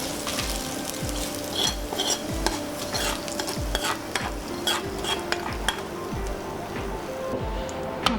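A spoon stirs hot tempering into gongura prawn curry in a pot, with rhythmic scraping strokes against the metal about once a second over a soft, continuous sizzle, close and moderately quiet.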